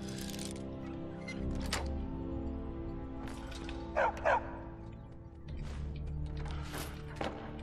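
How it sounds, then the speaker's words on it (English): Dog barks sound in the distance behind game sounds and music, with a couple of short, sharper barks standing out near the middle. "My dog is fucking barking."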